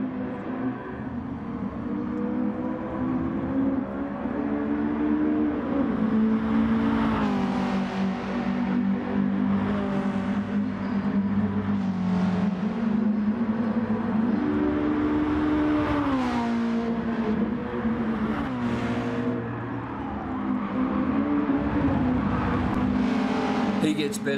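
Red race cars in the Dumbrobots video game scream downhill side by side, their engines a loud, sustained whine that rises and falls in pitch with shifting revs, continuous throughout.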